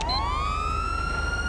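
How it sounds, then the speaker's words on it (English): A dual police siren from the GTA V LSPDFR police mod, two electronic wails sweeping upward together and holding steady, loud and continuous with no talk over it. "and that will cycle through your sirens as a dual siren"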